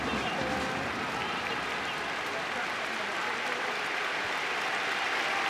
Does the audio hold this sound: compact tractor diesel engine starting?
no